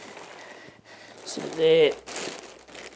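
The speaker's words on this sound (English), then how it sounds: "It comes in a plastic, clear plastic bag. I'll just open it up there." A clear plastic bag holding a statue base is opened up close, giving a brief loud crinkle and rustle of plastic while someone speaks over it.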